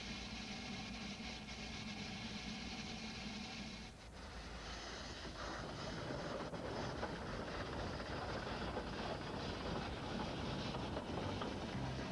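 A coal-burning steam locomotive of about 15 tons climbs the Pikes Peak railroad, giving a steady, continuous mechanical rumble and chugging that holds at a constant level throughout, with no talk.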